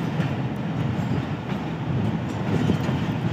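Khyber Mail Express passing through Multan Cantonment railway station, a loud continuous rumble and rattle of rolling stock close by, steady throughout with no talk.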